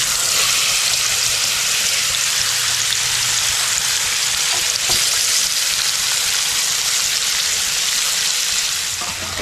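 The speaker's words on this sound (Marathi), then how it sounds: "तेल तापले आता डायरेक्ट हे टाकायचे सगळे बटाटी" Sliced potatoes fry in hot oil in a kadhai, a loud, dense, continuous sizzle and crackle close up with no pause.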